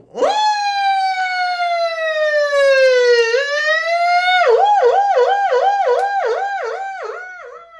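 Beatboxer imitating a siren with the voice, a loud, clean rising-and-falling wail that glides down slowly then breaks into rapid warbling yelps, alone and close.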